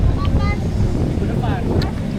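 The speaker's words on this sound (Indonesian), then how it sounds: "Anginnya agak kencang ini guys," Strong wind buffets the microphone outdoors during a bicycle ride, a loud continuous low roar with gusty rumble throughout and faint higher chirps drifting in the background.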